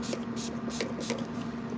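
Short hissing bursts of Urban Decay All Nighter makeup setting spray, about four quick pumps in an even rhythm, close and fairly loud over a low steady hum.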